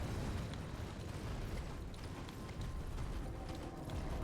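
Horse galloping in the video game Elden Ring, a steady dense drumming of hoofbeats under a loud continuous rumble of game sound throughout.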